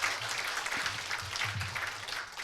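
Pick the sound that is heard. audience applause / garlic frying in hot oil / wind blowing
audience applause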